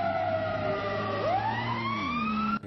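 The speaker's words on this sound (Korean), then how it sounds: "이렇게 사이렌 소리도 확인해 볼 수가 있습니다." An AI-generated siren sample: a clear electronic wail sweeping down then rising again in pitch, steady and loud throughout, ending abruptly.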